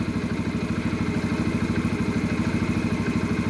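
A warm Yamaha XT125X single-cylinder motorcycle engine idles steadily nearby, with a loud, even low putter and a fast regular pulse that holds for the whole stretch without any revving.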